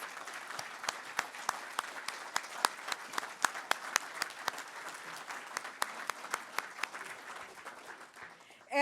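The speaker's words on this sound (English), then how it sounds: "Another round of applause." A lunch-event audience in Surrey, British Columbia breaks into sustained applause for Canada's opposition leader, a dense steady patter of many hands clapping throughout before it abruptly cuts off at the end.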